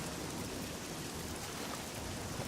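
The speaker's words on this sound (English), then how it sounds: "Oh, and it's apparently raining very hard." Heavy rain pours in the video game Oblivion, a dense, even hiss of falling water with no breaks, steady and moderately loud.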